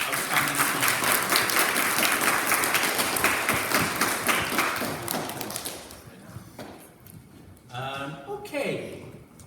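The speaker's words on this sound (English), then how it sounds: "So, a big round of applause for our 4 outstanding achievements." A school audience at a Year 6 leavers' awards ceremony applauds award winners with dense, sustained clapping for about six seconds, then fades to scattered claps as a voice begins talking.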